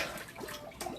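Water from a pot of cooked vegetables pours into a kitchen sink, a steady splashing rush with a louder surge of gushing near the end, close and alone.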